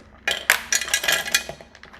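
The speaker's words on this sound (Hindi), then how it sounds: "पूरी बड़ी हल्दी की गांठें इसमें हम डाल रहे हैं।" Whole dried turmeric roots drop into the dry steel jar of an Atomberg BLDC mixer grinder, giving a quick run of loud, hard clattering knocks and rattles that trail off, with no talking.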